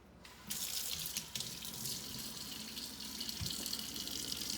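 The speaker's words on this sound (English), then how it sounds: "just gonna wash out all these little bubbles and everything" Tap water runs steadily over hands to rinse off homemade soap lather and bubbles, a close, continuous splashing rush into a sink with no talking.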